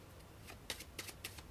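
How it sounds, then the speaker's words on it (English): A deck of playing cards is shuffled close by, a few quick soft riffling bursts in an uneven rhythm, faint and alone without talk. "Give the rest a shuffle."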